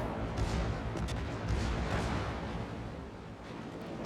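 Warship guns fire at long range in World of Warships, a dense rumbling barrage of booming shots with sharper cracks near the start and middle, sustained and fairly loud.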